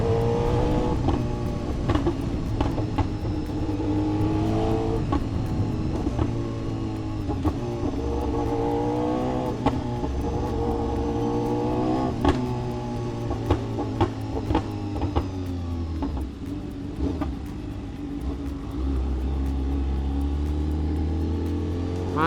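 A BMW S1000RR sportbike engine drones steadily while riding through evening traffic, a loud sustained close engine tone with shifting revs and wind buffeting over about twenty seconds.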